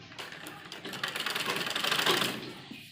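A sewing machine stitches along a buckram edge for a lined heavy suit, a fast, close, rhythmic mechanical clatter that builds in speed and loudness before stopping, with no speech.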